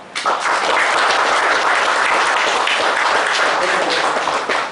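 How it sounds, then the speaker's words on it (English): A big round of applause from an auditorium audience thanking a speaker after a talk on auditor's reports and accounting disclosures, dense and loud clapping that holds steady throughout and tapers at the very end. "let us thank Sundharesan sir with a big round of applause"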